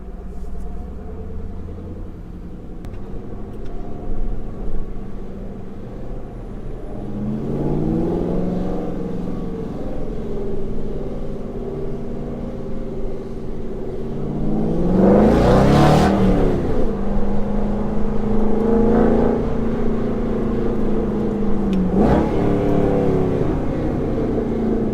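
Aston Martin GT8 engine rumbles at low speed, then revs hard in a loud rising-and-falling blip near the middle, followed by further throttle flares and a steady deep drone, close and dominant throughout.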